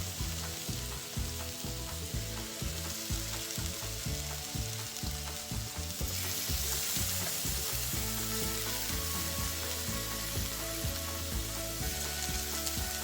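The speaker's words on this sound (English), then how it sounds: "So once we sear on both sides, once it gets a nice sear" Food sears on a pan over a butane burner for a Korean vegan gimbap filling, giving a loud, steady sizzle throughout with a soft ticking clatter underneath. The frying grows slightly brighter halfway through.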